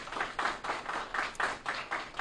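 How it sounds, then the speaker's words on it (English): Students standing at a school report card announcement get a round of applause, steady crowd clapping pulsing evenly for a couple of seconds with no voices over it. "Let's give them another round of applause"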